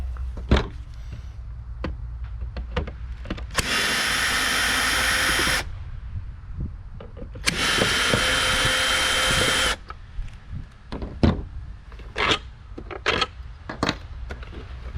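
A power drill backs two screws out of a Hayward pool cleaner gearbox housing, two sustained whirring runs of a few seconds each, close and loud, separated and surrounded by clicks and handling knocks of the plastic parts.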